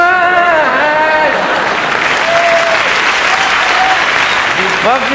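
Audience applause at a comedy show at the Olympia, loud dense clapping with a voice talking and drawing out sounds over it throughout.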